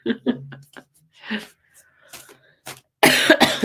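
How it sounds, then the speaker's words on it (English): Several short coughs and a bit of throat clearing from one person, close and fairly loud, with a longer, harsher coughing burst near the end; a dog door is open nearby in a quiet room. "The coughs are not too bad."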